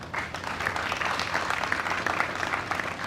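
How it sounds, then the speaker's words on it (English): Steady audience applause at a Guyana and Caribbean vaccination launch ceremony, a dense even patter of many hands sustained throughout at moderate loudness, with faint voices mixed in. "Please, let's give a resounding round of applause."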